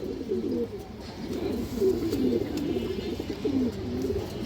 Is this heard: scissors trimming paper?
no